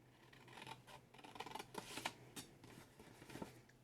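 Scissors snipping through card stock for a candle box, each short cut stopping at a score line, several crisp irregular snips close by, fairly quiet, with no talking.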